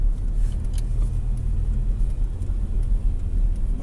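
A car engine hums with a steady low rumble as the driver eases gently onto the accelerator during a driving lesson, with no rising roar, just a smooth, continuous drone throughout.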